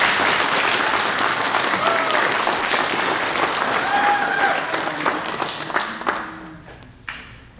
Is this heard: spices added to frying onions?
no